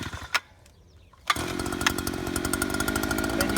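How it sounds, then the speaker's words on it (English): A gas-powered earth auger starts after a quiet stretch, then runs loud and steady with a rough two-stroke drone, ready to dig a chain link fence post hole in sandy, hard Tucson soil. "You start your auger up."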